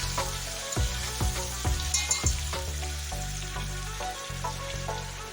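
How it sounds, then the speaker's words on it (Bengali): Potatoes for biryani fry in hot oil in a pan, giving a steady crackling sizzle with occasional sharper pops and light knocks, close and fairly quiet, with no talking. "তো আমি এখানে বিরিয়ানির আলুটা ভাজতে দিয়ে দিয়েছি।"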